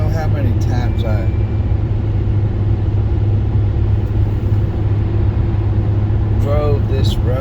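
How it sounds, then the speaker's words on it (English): Car driving along a rural Kentucky road between Harlan and Cumberland, a constant low rumble of engine and road noise from inside the vehicle, with someone talking over it. "I just wanted to record this drive this morning."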